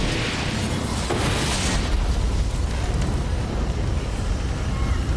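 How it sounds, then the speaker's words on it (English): A fiery blast from ignited hand sanitizer during a fire rescue roars loud and broad, a dense rumbling wash that dominates and holds steady for several seconds before cutting off. "There's always an explosion."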